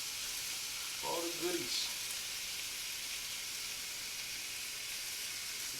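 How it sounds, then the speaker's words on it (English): Steady, bright sizzle of shrimp and grits ingredients frying in a hot pan, a continuous hiss throughout with a brief scraping of a spatula and a short spoken phrase over it. "So that sizzle. That's what you want."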